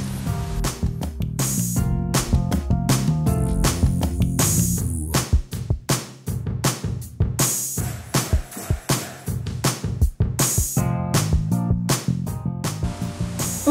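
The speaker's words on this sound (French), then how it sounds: "on fouette le tout" A whisk beats lemon cake batter in a bowl with a fast, steady rhythm of close, loud swishing and scraping strokes that continue throughout with only brief pauses.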